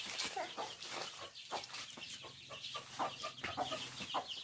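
Chickens cluck in short, scattered bursts at close range over a steady low background hum, with several birds calling irregularly.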